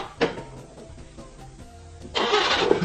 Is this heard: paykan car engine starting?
yes